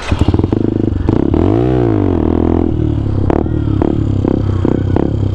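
Benelli TNT 125 motorcycle with a slipping clutch doing a wheelie, its engine loud and close, revving up and down in a rising and falling sweep with clattering mechanical noise.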